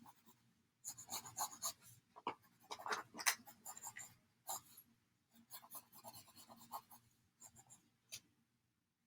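Pencil strokes scratching across paper as cylinders are sketched by hand, a quiet series of short irregular scribbles and rubs with brief pauses between strokes.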